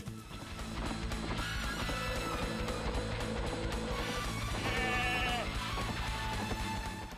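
Sheep bleating in the PS1 racing game Touge Max 2, a few wavering bleats heard over a steady, loud game soundtrack without any talk.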